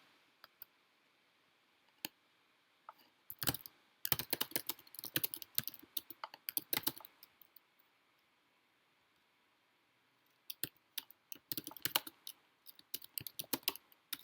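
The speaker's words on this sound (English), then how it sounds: "I'll type it out for us." Close computer keyboard typing comes in two fast, clattering bursts of key clicks separated by a quiet pause, with no talking.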